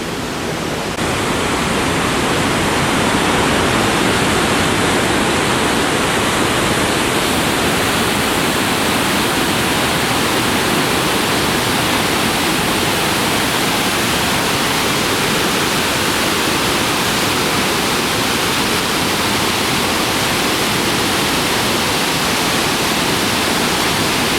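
Powerful, continuous roar of Salto Bossetti waterfall in Iguazu National Park, Argentina, a dense rushing wash of water that stays loud and unchanging from start to finish.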